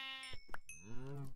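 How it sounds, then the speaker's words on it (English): A sheep in the video game Minecraft, played with the Feed the Beast modpack, gives two or three close, clear bleats in quick succession with no talking over them. "And what do we got? Sheep!"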